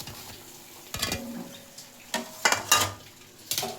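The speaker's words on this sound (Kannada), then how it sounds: "ಫ್ರೈ ಮಾಡ್ಕೊಳ್ಳೋಣ ಒಂದೊಂದಾಗಿ" Puri deep-frying in hot oil one at a time, with a soft sizzle under several sharp clattering utensil knocks against the pan.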